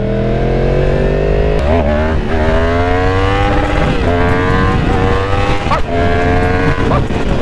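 Yamaha MT-10 motorcycle engine revving hard and climbing through the gears into a power wheelie, loud and close, with sharp shifts and repeated rising pulls that run throughout.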